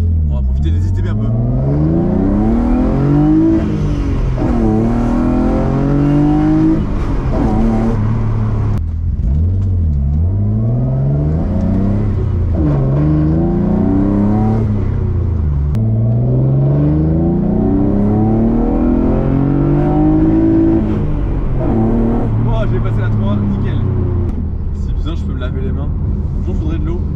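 A BMW E36 engine fitted with individual throttle bodies and a large 100 mm exhaust revs hard and close, rising and falling in repeated loud sweeps that fill the whole stretch.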